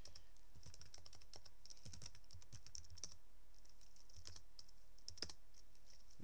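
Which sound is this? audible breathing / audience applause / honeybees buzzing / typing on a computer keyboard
typing on a computer keyboard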